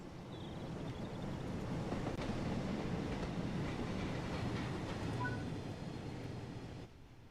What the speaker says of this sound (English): do I have a suspicion that train is gonna be the cause of the runaway?